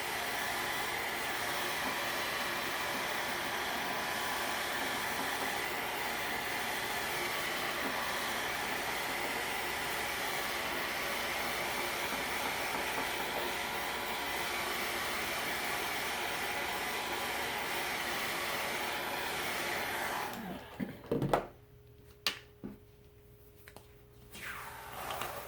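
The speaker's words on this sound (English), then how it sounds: "I'm going to dry this up a little bit." A hair dryer drying a transfer on a kitchen towel: a loud, steady blowing whir held for about twenty seconds, then switched off, leaving a few clicks and handling knocks in a quieter room.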